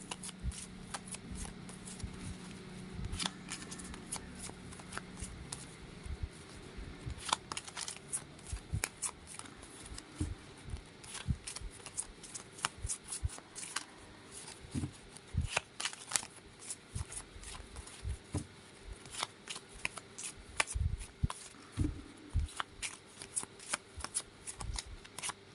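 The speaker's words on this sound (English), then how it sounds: "think of a question as I shuffle the cards" Tarot cards being shuffled over and over, a long run of crisp riffling and slapping bursts at close range, uneven in rhythm, with a faint low hum underneath and no talking.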